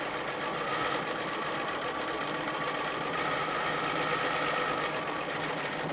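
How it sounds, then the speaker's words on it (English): A domestic sewing machine stitches out a ruler-work quilting shape, a continuous loud, fast mechanical whirr with a steady chattering rhythm heard close up. "we'll go ahead and sew out our last shape."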